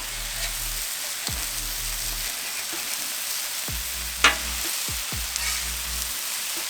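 Smashburgers and prosciutto cooking on a Pit Boss 5-burner griddle, a steady close sizzle with a few light spatula clicks, alone without speech.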